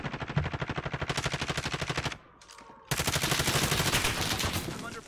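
Rapid automatic gunfire from the video game Call of Duty Warzone, loud and close, in dense sustained bursts that break off briefly for about a second before another long burst resumes.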